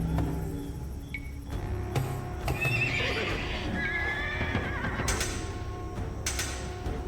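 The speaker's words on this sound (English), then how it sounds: "There are fine horses there, choking on smoke!" Horses whinny and neigh repeatedly inside a burning menagerie in Age of Empires II, shrill calls rising over hoof clatter and a dense rumbling din of battle, loud and close.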